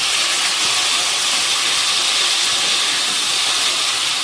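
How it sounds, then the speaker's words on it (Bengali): Potatoes, tomatoes and green chilies frying in a pan give a loud, continuous hissing sizzle that stays even throughout, with no talking. "আলু, টমেটো আর কাঁচা লঙ্কা এরপর ভালো করে ভেজে নিতে হবে।"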